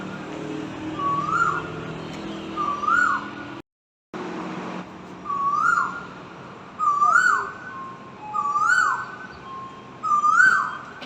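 A lift in Singapore gives out a series of bird-like electronic chirps, about six short warbling calls spaced evenly and fairly loud, with a brief silent gap partway through.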